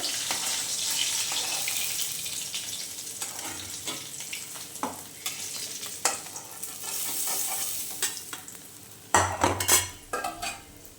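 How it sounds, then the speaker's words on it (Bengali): The remaining parshe fish frying crisp in hot oil, a continuous sizzle broken by utensil scrapes and clinks against the pan, with a sharp louder flare of spattering near the end. "বাদ বাকি মাছগুলো দিয়ে দিচ্ছি, দিয়ে কড়া করে ভেজে নিয়ে আসছি।"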